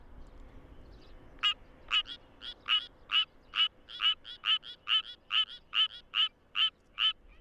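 Suwon tree frogs call from a rice paddy in a steady series of sharp, evenly spaced croaking pulses, close and clear over a quiet background.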